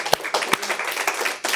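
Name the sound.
congregation applause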